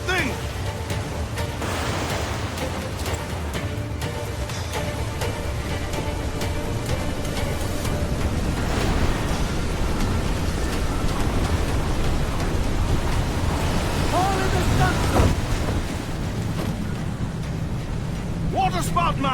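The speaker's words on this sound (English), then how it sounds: "Waterspout, man! Stay away!" Roaring wind and crashing ocean waves around a waterspout at sea in Assassin's Creed 4 Black Flag, a loud, steady broadband rush with swells throughout, overlaid by game music.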